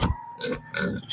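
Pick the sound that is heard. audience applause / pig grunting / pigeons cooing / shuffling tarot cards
pig grunting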